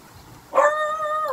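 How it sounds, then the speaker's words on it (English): A dog barks once, close and loud, the sharp onset drawing out into a sustained whining tone that holds to the end. "Oh, Margo has to bark"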